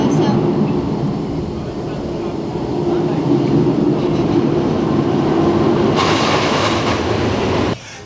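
A steady mechanical rumble and clatter of a Schwarzkopf shuttle loop roller coaster running on track at Nagashima Spa Land, Japan, rising to a brighter rushing roar near the end before cutting off.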